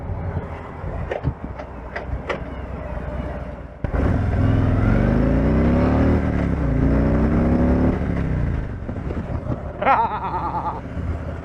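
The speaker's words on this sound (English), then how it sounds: "I just love the sound this bike makes" A Harley-Davidson Street Glide motorcycle pulls away and accelerates, its deep engine note rising steadily over about four seconds, loud and near, with wind noise and a few brief clicks around it.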